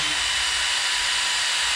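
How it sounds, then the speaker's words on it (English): A power drill runs continuously as it bores a hole in a board while building a chicken tractor, a steady loud whirring hiss with no pauses. "Now we're going to drill our second hole"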